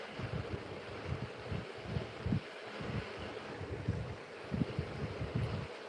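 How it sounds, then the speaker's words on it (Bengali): Gusts of wind buffet a microphone indoors, giving faint, uneven low rumbles and thumps that swell and fade without any talking. "বাতাস আছে মোটামুটি"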